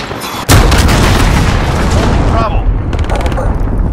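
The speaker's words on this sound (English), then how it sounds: "Enemy cruise missile." Enemy cruise missile strike in a Call of Duty multiplayer Domination match on the remastered Scrapyard map: a sudden massive boom sets off a long rumbling roar of blasts that keeps going, with faint game voice lines.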